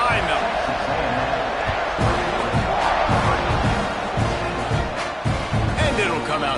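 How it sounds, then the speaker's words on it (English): A football stadium crowd at a Texas A&M versus Ohio State game roars and cheers steadily before kickoff, a dense, continuous wall of noise with a commentator talking over it. "this crowd now ready to get behind them"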